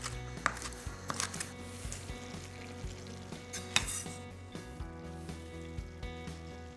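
Shrimp frying in a hot pan, with constant sizzling and spattering broken by sharp scrapes and clatters of a utensil stirring against the metal.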